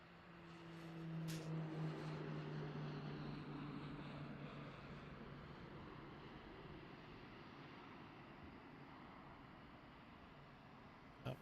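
A Gulfstream G700 business jet taking off at Boeing Field, heard as a faint, distant, steady broad roar that swells early and then holds, with no one talking.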